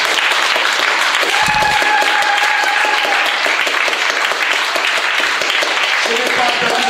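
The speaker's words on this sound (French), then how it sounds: "On acclame très fort pour le monde." A church congregation claps loudly and steadily for several seconds while a French-speaking voice carries on over the applause.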